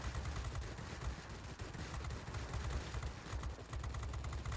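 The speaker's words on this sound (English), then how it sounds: "Use my 30mm cannons." Rapid, dense bursts of 30mm cannon fire in the World of Warplanes game, heard from an XP-36F aircraft, roaring continuously with a heavy low thump throughout.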